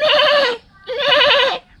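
A man imitates a young goat bleating, two loud wavering nasal bleats separated by a short pause, close to the microphone.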